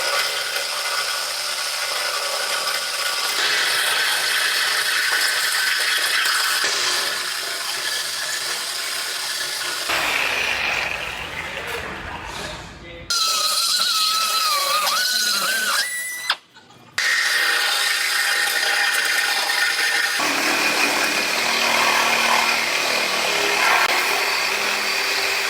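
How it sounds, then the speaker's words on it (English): A power tool cuts through a steel truck frame with a loud, continuous, harsh grinding roar that shifts in pitch as it bites, broken by a few brief pauses, close and without talk. "I'm gonna cut this frame right here on both sides"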